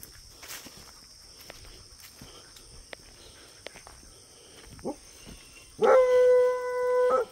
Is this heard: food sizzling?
no